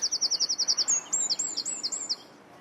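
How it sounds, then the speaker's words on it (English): Songbird chirping loudly outdoors in Dover, first as a quick run of about a dozen even, rapid notes, then a series of higher, more varied whistled phrases, close and clear with no voices over it. "We can hear a bird chirping very loudly while you're talking to us, Maddie."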